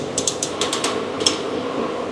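A torque wrench clicks rapidly as lug nuts are tightened on wheel spacers of a Ford Mustang GT: a quick series of crisp ratcheting ticks over a steady background hum, ending in one sharper click.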